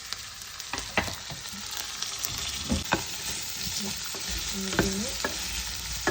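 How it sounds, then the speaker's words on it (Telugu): Cashew nuts frying in hot oil for pudina rice alongside a chicken roast, a steady close sizzle with stirring scrapes and clinks throughout, one brief spoken word. "నేను జీడిపప్పు కూడా యాడ్ చేస్తున్నాను."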